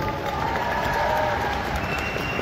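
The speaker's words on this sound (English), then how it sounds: "que vous applaudissiez aussi comme il se doit ma traductrice aujourd'hui" A Paris audience applauding a translator: steady, dense clapping from a large crowd indoors, mixed with a murmur of voices, continuous throughout.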